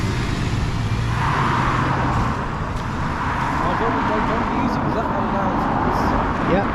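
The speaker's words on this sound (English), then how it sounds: "departing out first is our bus. We have a Stagecoach E200 MMC." A Stagecoach E200 MMC bus pulls away near Allens West station, its engine a steady, fairly loud rumble that holds throughout, with voices faintly in the background.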